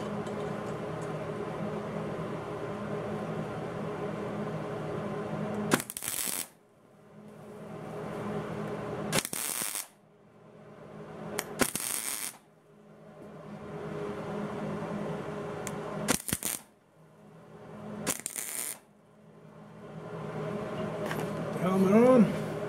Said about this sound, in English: I'm going to tack this bolt onto that other bolt so I don't have to use a wrench